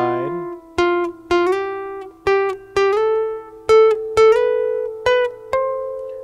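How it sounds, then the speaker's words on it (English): Guitar notes climbing a scale, each reached by a third-finger slide up from the tone beneath, about a dozen clean plucked notes ringing one after another, close and alone. "I'm going to slide to every note from the scale tone beneath it with my third finger"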